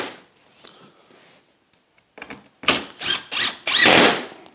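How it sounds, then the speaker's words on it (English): Screw driven into wood with a ratcheting driver in a workshop: after quiet handling noise, four short loud bursts of clicking and grinding follow in quick succession, the last one longest, close by. "I'm going to pop a screw in"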